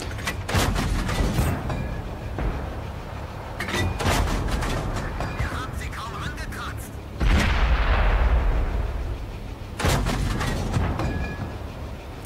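A StuG IV tank fires its cannon in World of Tanks: four loud, sharp blasts come several seconds apart, and each rings out with a heavy boom. Faint voices and game noise fill the gaps between shots.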